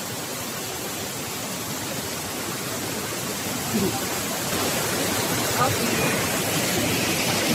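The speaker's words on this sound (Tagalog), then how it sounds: "Lakas na yun ng agos." Strong current rushing at Nabaroto Falls, a dense, continuous roar of waterfall water that swells slightly partway through, with a person talking briefly over it.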